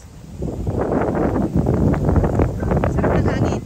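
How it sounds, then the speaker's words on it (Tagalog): Steady gusting wind buffets the microphone at Minalungao National Park, Pangasinan, a continuous loud rumble with rustling texture throughout. "Wow, sarap windy. So windy guys."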